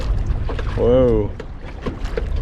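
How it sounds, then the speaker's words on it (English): Choppy water slapping and sloshing around a kayak on the water off north Titusville, steady and close, with wind buffeting the microphone and a brief tonal voice-like call in the middle. "pretty choppy, getting choppy out here."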